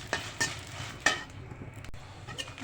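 Dried red chilies frying in a pan for a shutki bhorta, with scraping and stirring clatters of a utensil against the pan over a faint background sizzle, close and fairly quiet.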